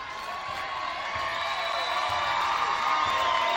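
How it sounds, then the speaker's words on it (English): Crowd at a girls' varsity high school basketball game in a Robbinsville gym, a sustained loud roar of cheering that swells slightly over the moment, with no distinct voice standing out. "Crowd is electric here in Robbinsville"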